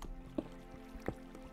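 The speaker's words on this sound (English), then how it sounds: "I hear water." Minecraft water drips inside a cave, two soft, separate plinks spaced under a second apart over a quiet background.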